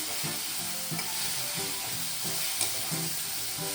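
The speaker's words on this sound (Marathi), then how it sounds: "हे वाटण पण होऊ देणार छान परतून घेणार" Ground masala paste of ginger and garlic sautéing with mixed vegetables in a pan, a constant close sizzle with rhythmic scraping as the mixture is stirred.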